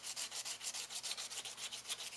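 Faint, steady back-and-forth rubbing of 100 grit sandpaper on a window edge, about eight quick strokes a second, soft and close with no talking.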